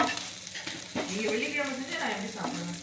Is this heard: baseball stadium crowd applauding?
no